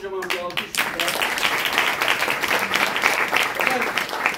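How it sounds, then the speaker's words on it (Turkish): A theater audience at an improv festival in İzmir bursts into sustained applause after a short voice, the clapping dense and steady throughout with a few cheers mixed in. "kocaman bir alkış"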